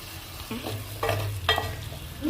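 Paneer is stirred gently with biryani masala, garam masala and coriander powder in a frying pan, soft spoon scrapes over a low steady sizzle, quiet and close, with no speech.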